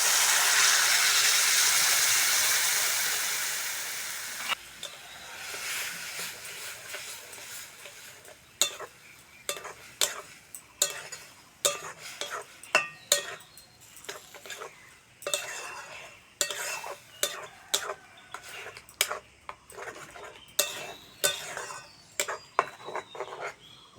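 Pointed gourd paste hits hot oil tempered with black cumin, giving a loud initial sizzle that fades, followed by repeated metallic scraping and stirring clatters of a spatula in the pan.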